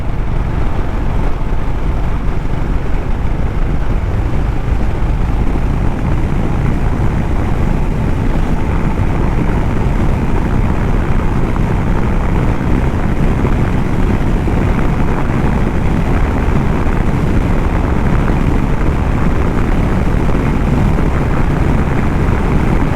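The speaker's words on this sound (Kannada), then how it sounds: "ಆಲ್ಮೋಸ್ಟ್ 120 ಹೋದ್ರೂ ಸ್ಟೇಬಲ್ ಆಗಿದೆ ಗಾಡಿ." A Honda H'ness CB350 DLX Pro Chrome motorcycle rides at nearly 120 km/h, giving a constant loud roar of wind and engine that holds unchanged for over twenty seconds, with no voices.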